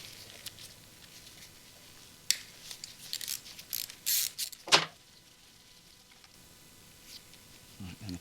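A 10mm wrench loosens the remote bleed tube on a Honda Goldwing clutch slave cylinder: a few quick metallic ratcheting clicks and clunks come close up in the middle, with quiet stretches before and after.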